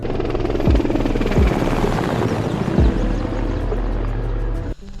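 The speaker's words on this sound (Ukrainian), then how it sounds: "Основним бойовим гелікоптером є Мі 24" A Mi-24 attack helicopter drones loudly overhead, its rotor thumping steadily under a broad roar, with pitch sweeps as it passes, cutting off abruptly.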